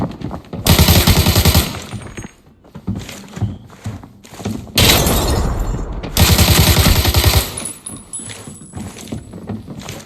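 Loud bursts of automatic gunfire in the video game Arena Breakout, several long rapid-fire volleys separated by short gaps and scattered single shots, close and dominant.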